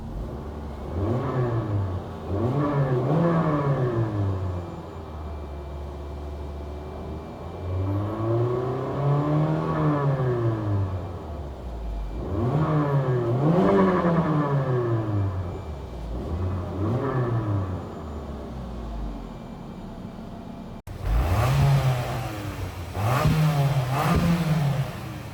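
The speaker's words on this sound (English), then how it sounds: "let's give her a few revs and check how the engine sounds." A 2025 Mitsubishi Xforce GT with its 1.5-litre petrol engine revved repeatedly while parked, each blip climbing and falling in pitch with short pauses between bursts, loud and close with no talking.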